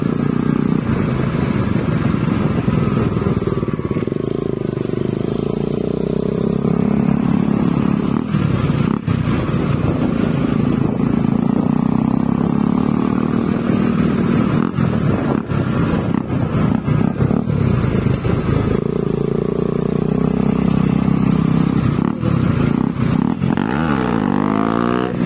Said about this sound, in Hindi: बूमर पूरा रास्ता पर व्हीली मारेगा आज तो।